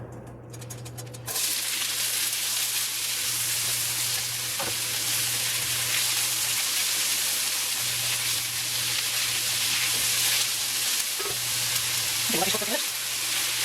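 Kidney beans cooking in a pot for chili give a steady, close sizzle and bubbling hiss that runs throughout, with a few faint clinks near the end.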